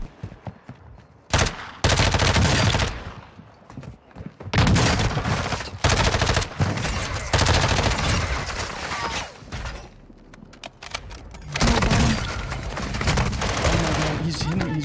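Warzone 2 gunfire blasts through walls in loud repeated bursts of rapid shots, separated by short pauses, with a player talking over the action.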